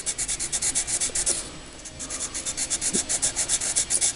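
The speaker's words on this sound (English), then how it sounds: "And just lay it on its side and shade her in." A charcoal pencil laid on its side shades across paper in quick, even back-and-forth strokes, a close, rhythmic dry rasping with a short pause midway.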